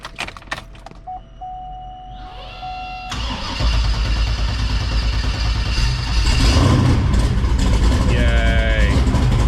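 An LSX-swapped Cadillac Escalade starts after a battery charge: keys jingle and chime, the starter cranks briefly, then the V8 catches and settles into a loud, rumbling idle close by, with a voice speaking during the running.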